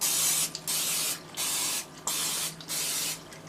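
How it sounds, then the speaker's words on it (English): Cooking spray is sprayed into small donut pans, giving four or five close hissing bursts, each lasting from half a second to nearly a second, with brief pauses between them. "I'm gonna give them a light spray."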